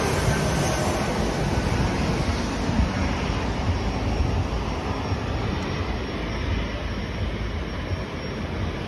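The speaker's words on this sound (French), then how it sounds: "un petit avion qui atterrit" A small propeller airplane comes in to land, a steady, loud broadband engine and wind roar filling the whole stretch without a break.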